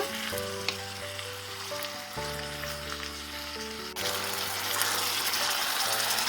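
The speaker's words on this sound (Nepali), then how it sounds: "मासु फ्राई भइरहेको छ" Mutton pieces fry and sizzle steadily in a hot pan over medium-high heat while being cooked down for a curry, a continuous close crackle that grows louder and denser in the second half.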